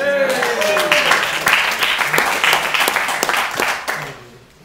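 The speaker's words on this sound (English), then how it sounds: "People are clapping" An audience claps at a candidate Jeopardy event, sharp individual claps standing out in a lively round that includes a few whoops and voices, then stops abruptly.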